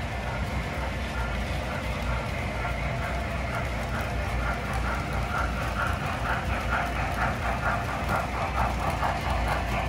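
Two model trains, including a custom Florida East Coast locomotive, run steadily around a layout in a train room, giving a continuous rolling clatter and motor hum at even loudness with no voices.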